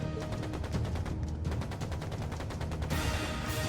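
Sustained rapid gunfire in a battle scene from the video game Trails into Reverie, dense overlapping shots rattling continuously under a backing music track, with a brighter burst near the end.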